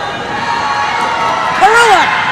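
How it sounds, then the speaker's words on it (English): Loud basketball crowd at a boys middle school game roaring and whistling through a free throw, a steady wall of cheering and shouting with a rising swell near the end. "this crowd wants to make sure he misses. Which he does. The noise works."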